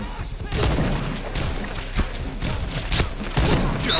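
Gunfire in the online shooter Point Blank: a few sharp, loud shots spaced across a few seconds over a busy, noisy game background.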